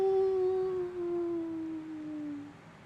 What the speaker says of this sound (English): the howl of the Wraithhound